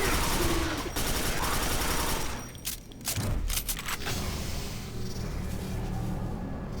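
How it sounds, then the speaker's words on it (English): Weapons blasts and explosions roar in the Quake 4 shooter game as a rocket launcher fires, dense and loud at first, then a cluster of sharp bursts before fading into rumbling background noise. "Another one of the standout weapons of the game being a rocket launcher."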